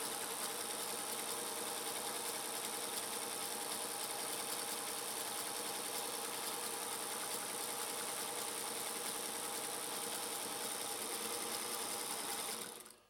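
A Singer 221 Featherweight sewing machine runs at a steady pace for several seconds, a fast, even mechanical whir and clatter heard up close with no voices, stopping abruptly at the end.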